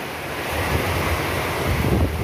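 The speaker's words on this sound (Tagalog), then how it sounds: "ang lakas ng ulan at yung kulog. At hangin din." Sudden heavy rain with strong wind during a thunderstorm, a loud steady roar and rush with gusty low rumble, filling the whole stretch with no voices.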